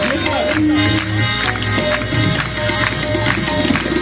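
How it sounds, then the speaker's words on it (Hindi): A worship congregation claps loudly and steadily along with a devotional song, the rhythmic hand claps sitting under continuous music and singing throughout. "आइए जोरदार तालियां बजाते हुए"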